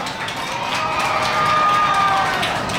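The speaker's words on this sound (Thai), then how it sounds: "ปรบมือให้กับน้องภูวินด้วยนะครับ" A crowd at a Thai promotional event for Minere mineral water in recycled plastic bottles applauds for Phuwin, with steady clapping and a few cheers rising slightly toward the end.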